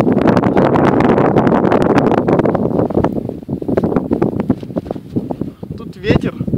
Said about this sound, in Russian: Тут ветер.